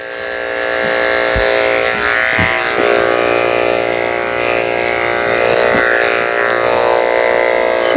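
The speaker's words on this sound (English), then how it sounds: "It's hard to get in there with the clippers, the longer clipper that I'm using on her body." Electric clippers buzz continuously and loud and close while trimming a nervous Toy Poodle's hair, a steady high whine broken by a few short bumps and knocks as the blade moves through the coat.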